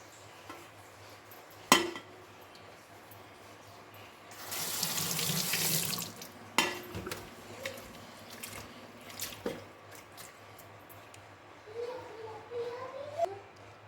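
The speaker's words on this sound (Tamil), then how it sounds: "இது மாதிரி வேறு புது தண்ணி பிடிச்சி கழுவும் போது தான் அந்த மணல் போகும்" Dried anchovies are rinsed under a running tap in a sink to wash out sand, with water gushing steadily for a couple of seconds, then splashing, dripping and sloshing in a bowl, close and fairly quiet.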